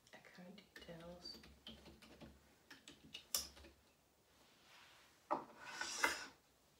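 Account details being typed on a computer keyboard, quick soft key clicks in short bursts, with a voice speaking softly over much of it and a brighter rustle near the end.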